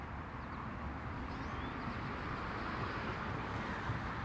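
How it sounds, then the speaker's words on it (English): Steady traffic rumble from cars on a nearby road, a continuous low wash of engine and tire noise with no distinct pass-bys standing out and no talking. "You should be hearing some traffic"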